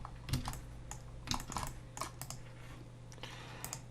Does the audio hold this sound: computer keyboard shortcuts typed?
yes